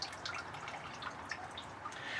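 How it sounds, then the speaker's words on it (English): Water from a gutter-fed IBC tank trickling and dripping out close by, a steady splashing flow with scattered brighter drip plinks throughout, no voices. "the lower I have it, the more water comes out."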